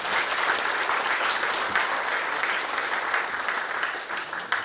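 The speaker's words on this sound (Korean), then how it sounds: "박수 한번 부탁드립니다" An audience at a seminar in Korea claps steadily for several seconds, a dense and even round of applause heard from within the room.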